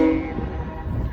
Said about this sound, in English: This is a Norfolk Southern train.